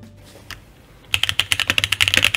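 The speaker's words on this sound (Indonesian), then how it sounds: "Jadi ini suara asli keyboard ini" A brief quiet lull, then rapid clacky keystrokes on a mechanical keyboard, sharp and close, in a quick irregular burst.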